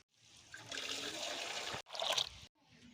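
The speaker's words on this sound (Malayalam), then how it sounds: "ഇനി ഇതിൻ്റെ കൂടെ ഞാനൊരു 3 കപ്പ് പച്ചവെള്ളം ഒഴിക്കുക കേട്ടോ." Plain water poured from a cup into diluted rice water for a plant tonic makes a close, splashing gush lasting over a second, then a second short pour, with no talk.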